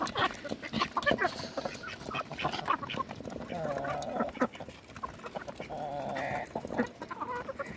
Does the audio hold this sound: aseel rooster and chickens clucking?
yes